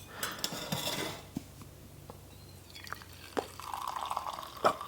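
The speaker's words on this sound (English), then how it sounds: "I'm gonna pour myself a coffee actually." Coffee poured into a cup indoors, a soft trickling and dripping of liquid with a few light clinks of crockery, fairly quiet and close with no talking.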